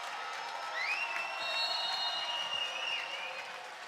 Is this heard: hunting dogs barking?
no